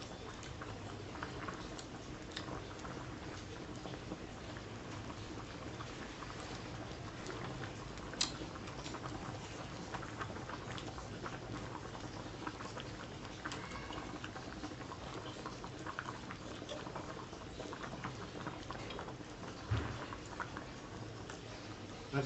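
A hot pot of sukiyaki bubbles at a steady boil in cold weather, giving a continuous soft simmering patter with a few faint ticks and clinks, close by and with no voices.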